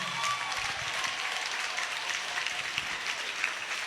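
Church congregation clapping and acclaiming Jesus, dense steady applause from a crowd, moderately loud and continuous with faint voices mixed in.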